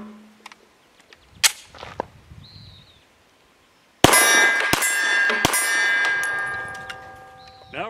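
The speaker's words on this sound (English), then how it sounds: "Next up, another subsonic Remington HTP" Canik TP9 SFx pistol with a long 5.2-inch barrel slide firing Remington HTP 147-grain subsonic hollow points outdoors, a few loud sharp reports and ringing metallic clangs from steel targets, the last one followed by a long reverberating tail.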